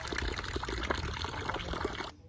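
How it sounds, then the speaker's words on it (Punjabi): Water running steadily from a government supply tap, a continuous close splashing trickle that stops abruptly near the end, with no talking. "ਆਪਣੇ ਸਰਕਾਰੀ ਟੁੱਕੀ ਦਾ ਪਾਣੀ ਵੀ ਆਉਂਦਾ"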